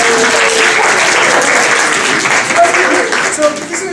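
An audience claps and applauds steadily and loudly throughout at a comedy improv show, with crowd noise mixed in and some voices under the clapping.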